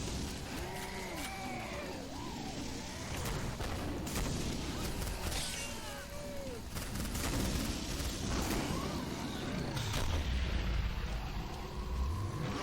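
Gunfire from shooting zombies in the video game Killing Floor: a dense, continuous barrage of shots and clattering effects layered over a steady rumble, loud throughout.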